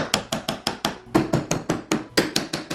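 Steady series of about fifteen sharp hammer taps on a nail punch, setting nails into wooden closet shelf molding, evenly spaced and close, with no voices.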